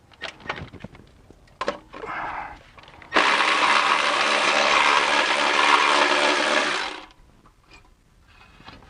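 A ratchet works loose a 10 mm bolt on the oxygen sensor bracket of a BMW E46 during transmission removal, giving a steady mechanical buzzing burst of about four seconds up close, framed by short clanks and handling noises.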